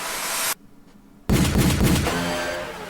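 Sharp, loud vocal bursts mimic gunshots in a rapid volley, broken by a brief near-silent gap, a voice imitating gunfire within a K-pop song.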